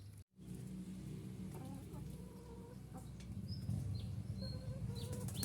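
Laying hens cluck steadily in a farmyard, a continuous murmur of clucks and short calls with occasional wing flaps, close by.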